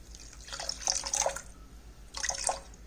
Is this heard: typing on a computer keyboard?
no